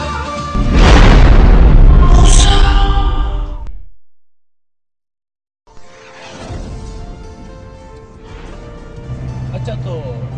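Gunshots fired into the air, a loud close boom followed by a roar that fades out to silence, then quieter rumbling and background noise return.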